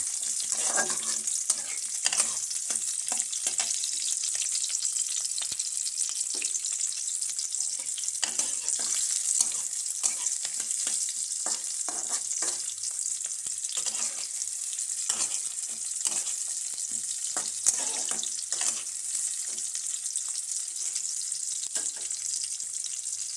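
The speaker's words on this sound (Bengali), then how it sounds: "পেঁয়াজগুলো একটু লাল লাল করে ভাজা" Onions frying in a pan for a breakfast of chickpeas and puffed rice, a steady loud sizzle running throughout with frequent stirring clatters and scrapes, no talking.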